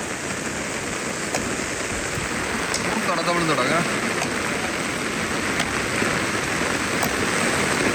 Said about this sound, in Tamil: நீங்கள் வீடியோவில் பார்க்கக்கே தெரியும் அப்படி ஒரு மழை